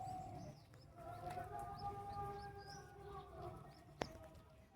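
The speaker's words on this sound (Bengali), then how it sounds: "সব পায়রা টায়রা আছে, কালো পায়রাও আছে, সাদা পায়রা।" Faint, distant pigeon cooing, black and white birds among the flock, drifts under a low ambient hum, with light chirps and one sharp knock near the end.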